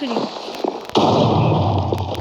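A sudden loud Minecraft creeper explosion blasts after some quieter clicks and taps, then rumbles on as a sustained noisy roar.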